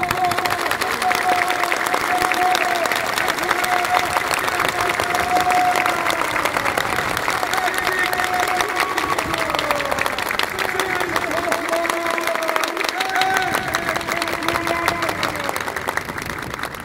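Crowd applause rolls on steadily at a rodeo event in Jicaral, Costa Rica, with a sustained dense wash of clapping, some cheering, and a faint tonal hum running through it.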